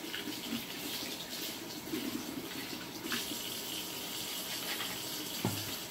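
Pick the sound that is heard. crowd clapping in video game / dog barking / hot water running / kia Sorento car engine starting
hot water running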